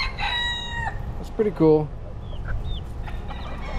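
Roosters in the Florida Keys crow and hens cluck nearby, a long drawn crow at the start followed by short clucks and squawks, with a person speaking briefly over them.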